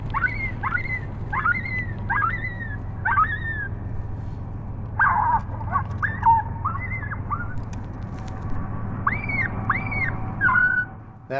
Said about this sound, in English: I hit the hot button on the collar, set on an adult coyote ki-yi sound.